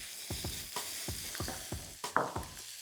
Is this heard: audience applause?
no